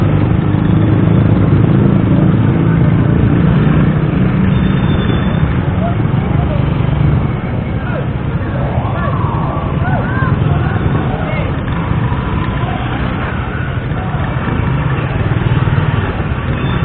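Motorcycles and other vehicle engines drone continuously on a road, a dense, loud traffic rumble that holds for the whole stretch, with people talking over it.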